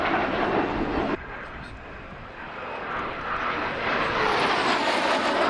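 Jet aircraft engine roaring loud and close during a solo airshow display, a sharp drop after the first second then a sustained broadband roar building again, with a commentator talking over it.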